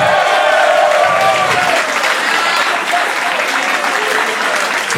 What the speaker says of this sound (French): j'aimerais ça qu'on applaudisse mon gars de son